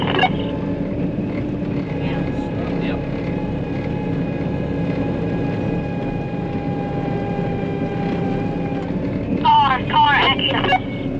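A corn combine harvester's engine drones steadily and loudly from inside the cab throughout, with a faint steady whine above it, while people talk over the noise.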